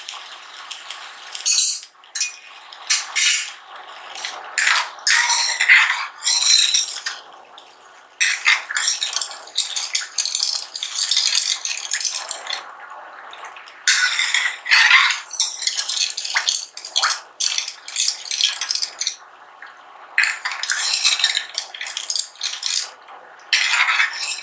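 A metal spoon stirs half a cup of sugar into milk in a pot, scraping and clinking against the sides in loud, repeated bursts with brief pauses, close up and without speech.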